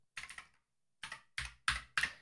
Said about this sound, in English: I'm typing my admin PIN,